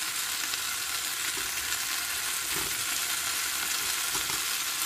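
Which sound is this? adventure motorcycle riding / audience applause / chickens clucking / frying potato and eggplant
frying potato and eggplant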